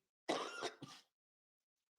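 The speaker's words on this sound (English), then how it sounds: "sorry about the coughing, guys" Two quick, rough coughs from a sick man close to the microphone, the first longer than the second, followed by silence.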